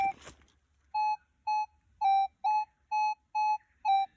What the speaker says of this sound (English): the detector beeped when I went over it